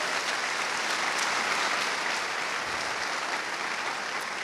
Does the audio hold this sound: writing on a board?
no